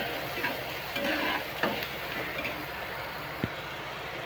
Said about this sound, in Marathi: कांदा भाजत आलाय.